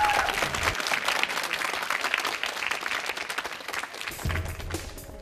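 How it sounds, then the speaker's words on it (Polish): Studio audience applause for contestant Mateusz on a driving-test quiz show, a loud, continuous burst of many hands clapping that holds steady throughout, with no speech. "Ale brawa dla Mateusza"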